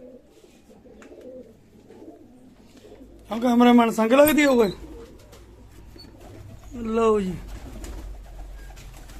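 Low pigeon coos murmur in the background while someone speaks in two short bursts nearby.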